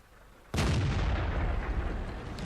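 A tank shell from an enemy vehicle slams into the player's tank in World of Tanks, a sudden loud boom at about half a second that swells into a sustained, heavy rumbling roar lasting to the end.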